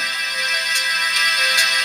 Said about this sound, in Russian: Здесь у нас рингтоны.